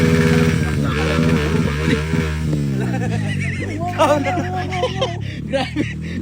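A Yamaha XTZ dirt bike engine with a loud pipe idles and revs loudly up close, rough and throaty, with a voice speaking over it.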